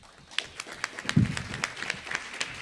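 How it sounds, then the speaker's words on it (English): Scattered applause from an audience at an awards event, a few sharp claps rising and tapering over about three seconds, fairly thin and not very loud. "we owe them all a round of applause"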